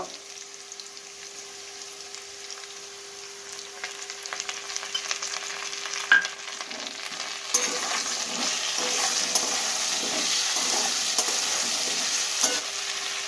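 Fried potatoes sizzle in a pan while being stirred with turmeric and spices for a prawn and banana-flower mochar ghonto, the hiss growing busier and louder with scraping stirs and small clatters.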